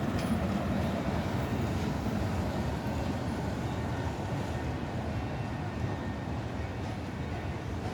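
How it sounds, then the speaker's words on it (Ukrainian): A tram rumbles past on Pidvalna Street in Lviv, a steady low mechanical roar with some wheel and rail noise, fairly close and continuous. "Зустрічний трамвай."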